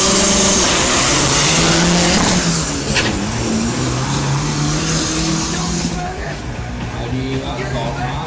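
Loud engine of a race truck, a 2010 Thailand Open Unlimited class champion, accelerating hard through the gears on a racing drag strip, revving up with audible gear shifts; a voice talks over it.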